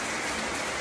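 Heavy pouring rain makes a dense, steady patter, close and continuous across a brief moment.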